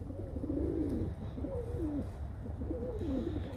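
A young pigeon coos up close, three throaty rolling calls in steady succession over a low background rumble, with no talking.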